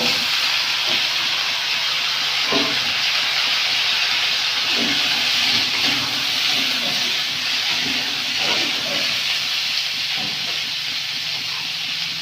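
Kohlrabi and potato pieces sizzle steadily in a pan with fried onion, a continuous loud hiss of frying with occasional soft clinks and stirring taps over about twelve seconds.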